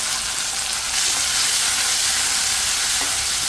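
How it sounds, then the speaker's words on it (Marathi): Potato and sweet potato slices fry in hot oil in a pan, giving a steady, loud, close sizzle and crackle that continues without a break. "छानसे असे फ्राय होईपर्यंत खमंग असे तळून घ्यायचे आहे त्याला"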